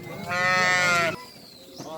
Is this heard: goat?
yes